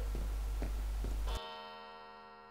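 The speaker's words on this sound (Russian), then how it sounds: "Опять чёртовы часы." In the horror video game Underhell, a clock ticks in a few sharp, evenly spaced beats, then stops with a ringing bell-like chime that decays slowly, heard faint and alone.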